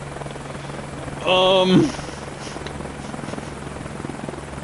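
A simulated helicopter in Microsoft Flight Simulator 2024 drones steadily in the background while a man briefly utters a hesitant filler sound over it.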